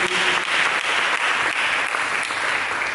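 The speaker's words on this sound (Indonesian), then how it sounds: "Berikan tepuk tangan kepada Yesus" A church congregation claps steadily and loudly throughout, dense applause with no pauses.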